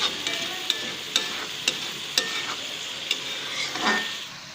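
Minced meat keema frying in a pan for dhaba-style matar keema, a continuous close sizzle broken by regular sharp spatula clinks and scrapes against the pan, about one every half second.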